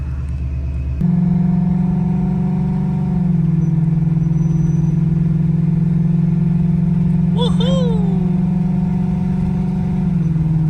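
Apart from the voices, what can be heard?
car engine accelerating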